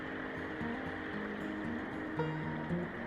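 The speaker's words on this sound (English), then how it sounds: "I just got water here in this beautiful little stream." A small mountain stream in a river valley near Yosemite flows in a steady, continuous wash, a dense unbroken rush of water heard close by with no voices.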